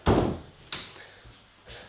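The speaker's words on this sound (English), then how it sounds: "Let me close this door." A door shuts with one firm thump, followed by a couple of lighter knocks and rattles as it settles in a quiet room.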